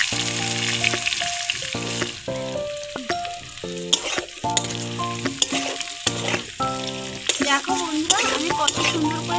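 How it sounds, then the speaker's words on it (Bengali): Boiled young jackfruit frying in hot oil gives a loud, steady sizzle with a constant crackle that runs the whole time, with melodic music playing underneath. "আমি তেলের ভেতরে সেদ্ধ করে রাখা এঁচুরটা দিয়ে দেবো এটুকটাকেও লাল লাল করে ভেজে নিতে হবে"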